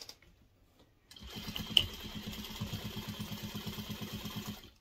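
A sewing machine stitches a quarter-inch seam around a fabric pot holder at stitch length 2.5, starting after a brief quiet and then chattering in a fast, even rhythm of close needle strokes.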